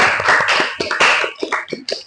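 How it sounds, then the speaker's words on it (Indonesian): Applause from a small group of students in a classroom, a few uneven bursts of hand clapping that rise and fade over about two seconds, close and moderately loud, with no voices. "Beri tepuk tangan untuk kita semua."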